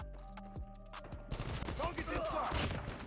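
Gunfire in the mobile shooter Call of Duty Mobile: a few sharp shots early on, then a dense, continuous burst of rapid fire with in-game effects, loud and close throughout.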